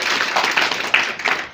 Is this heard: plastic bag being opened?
no